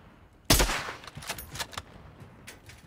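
Gunfire in Call of Duty Warzone: a sharp, loud shot opens a burst, followed by several lighter, scattered shots and distant pops fading into the background.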